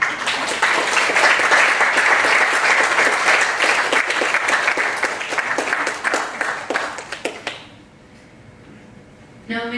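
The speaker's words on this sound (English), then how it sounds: "applause." A panel audience at a UNESCO session claps after a talk, a dense, loud burst of many hands that holds steady for about seven seconds, then thins into scattered claps and fades to near silence before a brief noise at the end.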